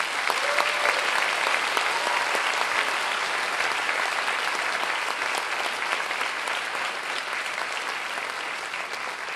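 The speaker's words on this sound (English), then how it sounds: "they deserve another big round of applause" Sustained, dense applause from an audience at an intermediate school music festival in Kuala Lumpur after a children's performance, loud and even throughout with no talking.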